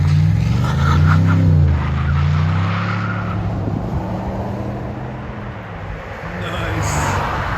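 A 2020 Chevy Silverado with a 6.2L V8 and Magnaflow exhaust rumbles loudly and close, its low engine note rising and falling through a rev before settling to a steadier drone.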